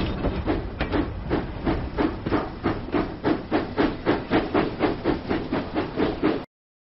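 Steam engine James arrives in a Thomas and Friends track repair game, with rhythmic chuffing and hissing that pulses steadily and loudly before stopping suddenly.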